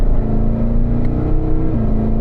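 Race car engine accelerating out of turn 4 on a track, a loud, close drone with a rising tone that shifts pitch near the end, heard from inside the car.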